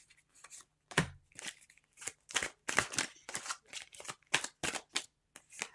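Cards are shuffled for a spirit card reading in a rapid series of dry, riffling bursts, about a dozen close together, with no talking over them.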